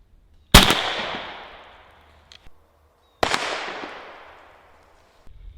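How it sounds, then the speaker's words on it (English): Harpoon fired from 12 gauge shotgun barrels outdoors at about 15 yards: two loud separate blasts roughly three seconds apart, each a sharp crack with a long fading echo, plus a couple of small clicks in between. "then double blast"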